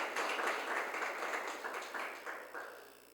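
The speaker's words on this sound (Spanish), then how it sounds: "Pues dale un aplauso a Dios" A church congregation claps together during a sermon, with rhythmic, fairly loud bursts of applause that gradually fade toward the end.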